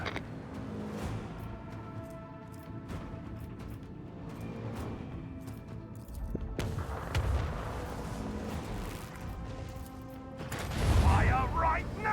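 Naval artillery salvo in a video game, heavy booming gunfire rolling through a dense mechanical din, with a louder burst near the end and someone talking over it.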